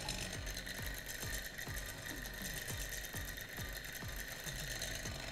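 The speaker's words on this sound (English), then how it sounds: "So this is a thermoacoustic engine." A thermoacoustic engine runs steadily, making an even, rapid train of soft thumping pulses about twice a second over a continuous mechanical hiss, with no voices.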